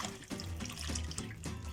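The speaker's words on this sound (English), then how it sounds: "now we need to rinse it with some salt water because it comes from outside" Harvested spekboom leaves being rinsed in salt water in a kitchen, a steady close splashing and running-water wash with soft sloshes and drips, no talking.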